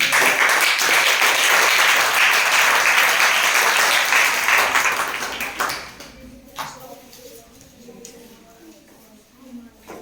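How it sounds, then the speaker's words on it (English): Loud, dense clapping from a crowd at a school morning assembly fills the first six seconds, then thins out and fades to scattered claps and quiet room sound. "we start our morning assembly with loud clapping"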